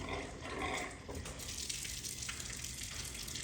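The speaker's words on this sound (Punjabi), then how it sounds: "ਵੇਖਿਆ ਜੀ ਬੈਟਰੀ ਨਾਲ ਪੰਪ ਸਾਡਾ ਬਾਹਰ ਵਾਲਾ ਚੱਲ ਗਿਆ।" A battery-powered outdoor pump fills a water tank, giving a steady rushing, splashing stream of water at moderate distance, constant throughout with no voices.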